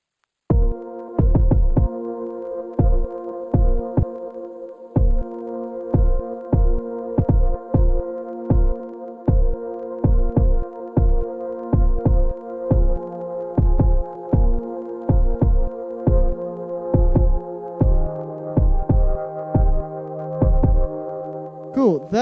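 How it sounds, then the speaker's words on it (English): Future garage beat built from scratch, with a punchy kick drum thumping in a steady, slightly syncopated pattern under sustained synth chords, loud and up front throughout. "So I'm going to put in the kick first."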